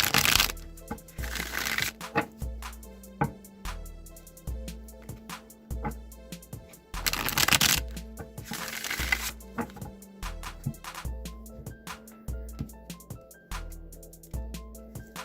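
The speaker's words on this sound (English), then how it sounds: "Now I'm just going to shuffle the Rider-Waite deck a few times" A Rider-Waite tarot deck being shuffled repeatedly, with rapid riffling and tapping bursts coming in waves over a steady background of soft music.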